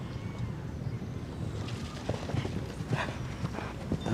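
Show-jumping horse's hooves clip-clopping in a rapid, uneven rhythm on an arena course at the La Baule Grand Prix, steady mid-distance thuds over a low wind and crowd rumble.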